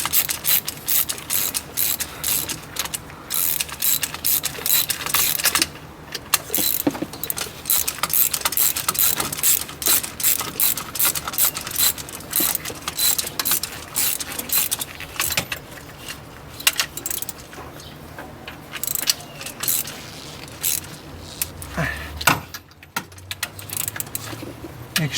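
Rapid ratcheting clicks from a tight-reach ratchet wrench loosening the voltage regulator on a BMW alternator, steady close-up bursts of fine pawl clicking running almost continuously with brief pauses.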